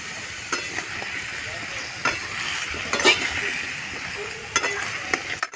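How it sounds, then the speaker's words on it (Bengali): Pumpkin curry with salt and turmeric, made with hilsa fish heads, is stirred in a sizzling pan, with a steady close sizzle broken by several sharp scraping strokes of the spoon against the pan. "ভালো করে একটু নেড়ে নেব কুমড়োটা"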